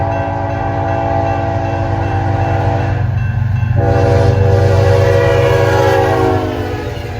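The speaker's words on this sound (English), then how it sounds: "we got another westbound, this time with a rare K5HLB horn" A westbound freight train in Kansas blows a rare K5HLB horn, a loud, close, sustained multi-chime blast with a brief break partway through, sounding over the low rumble of the passing train.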